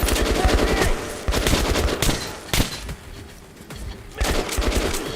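Gunfire in the video game Metro Last Light, loud rapid automatic bursts rattling almost continuously, with a few brief lulls between volleys.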